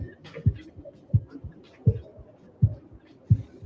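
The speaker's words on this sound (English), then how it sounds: "I got my heartbeat." Steady heartbeat of a man, six strong low thumps about two-thirds of a second apart, each double-pulsed and throbbing, heard close and alone with no talk.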